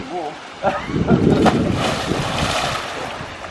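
Water churns and rushes steadily through the jet system and over the waterfall of an Australian recreation pond, a broad loud wash with wind buffeting the microphone and a voice speaking over it.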